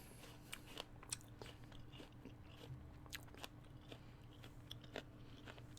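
Crisp, crunchy bites into a Green Dragon apple followed by close chewing, with sharp crackling crunches scattered irregularly over a quiet, low background hum.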